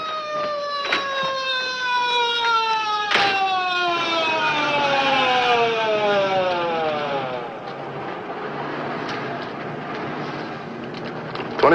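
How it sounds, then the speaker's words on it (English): A loud, nearby ambulance siren wails in long rising and falling sweeps, gradually winding down in pitch over several seconds with a low engine hum underneath. "There's the ambulance."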